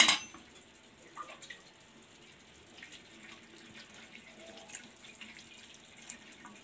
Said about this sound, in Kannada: ಇದಕ್ಕೆ ತಣ್ಣೀರು ಹಾಕ್ಕೋಬೇಕು ಒಂದು ಸ್ವಲ್ಪ, ಇಲ್ಲದಿದ್ರೆ ಅದು ಅಂಟಂಟು ಆಗ್ಬಿಡುತ್ತೆ